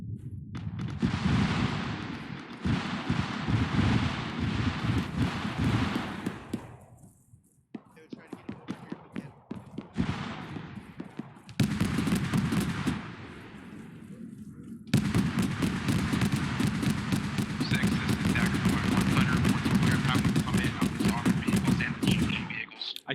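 Explosions and bursts of gunfire in the ArmA 3 military game, loud and sustained with repeated sharp cracks, while players talk over radio throughout.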